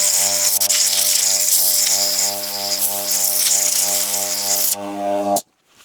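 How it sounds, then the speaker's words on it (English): Compressed air from an air line blasting through KTM 790 Scotts steering damper parts to clear debris and oil: a loud, steady hiss running for about five seconds over a background hum, then cutting off sharply. "an air line through it just to blow in case there's any debris in it"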